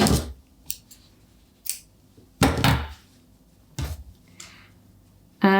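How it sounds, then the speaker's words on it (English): Scissors snipping recycled cotton yarn during crochet work: a few crisp, close metallic snips and clicks separated by quiet pauses, with no talking. "And now I can cut off shade honey."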